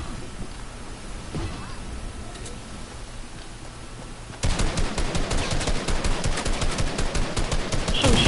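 Automatic gunfire in the video game Fortnite, quieter scattered shots at first, then a loud rapid burst of evenly spaced shots for the last half.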